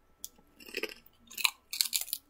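Crunchy baked smoky barbecue potato chips chewed close to the mic, three bursts of crisp crackling bites separated by short pauses.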